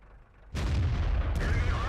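Heavy tank cannon shots in World of Tanks, a sudden loud boom followed by a sustained rumbling roar, with a second sharp crack partway through, dense low-end energy throughout.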